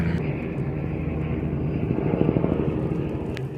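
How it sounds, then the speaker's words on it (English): A helicopter drones steadily overhead, a low rumbling engine and rotor thrum holding at a constant, fairly close level. "Sorry about the helicopter."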